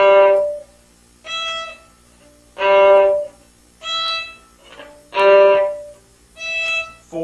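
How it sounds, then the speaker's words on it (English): Violin bowing exercise played with short jerked strokes: six separate bowed notes in pairs, each bow stroke starting abruptly and stopping with gaps between, close and clear with no talking. "firstly with jerked bowing and then with smooth bowing"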